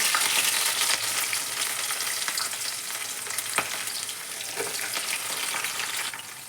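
Onion and green chili fry in hot oil with cumin and a little lentil, a loud, steady hissing sizzle with a few stirring knocks, close up.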